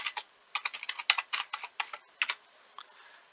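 Quick bursts of keystrokes on a computer keyboard as a password is entered, about a dozen close, crisp taps in an uneven rhythm with short pauses, then a few lighter presses at the end.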